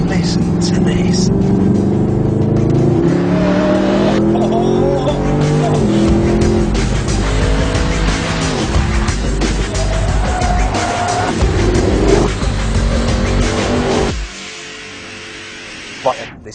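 A 2011 Mercedes SLS AMG V8 revs hard on a track, loud and close, rising through gears with tire squeal, then drops abruptly near the end.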